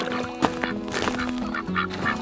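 Several ducks quack in irregular bursts close by, with a steady low hum running underneath.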